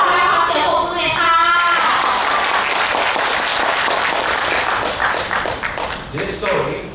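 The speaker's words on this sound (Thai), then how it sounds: "ขอเสียงปรบมือหน่อยค่ะ" Loud audience applause fills the room at a children's storytelling event, dense clapping mixed with cheering children's voices throughout.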